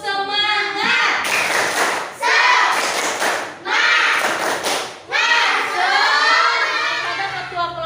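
A classroom of children performs the 'tepuk semangat' clapping chant, with loud bursts of clapping alternating with sung, chanted group voices in a repeating rhythm.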